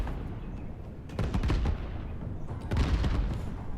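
Repeated explosions in the Divinity Original Sin 2 video game keep going off, with two heavy booming bursts standing out over a continuous rumbling battle din.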